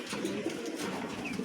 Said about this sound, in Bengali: কোয়ালিটিফুল একটা কবুতর, টাইগার মোটেনা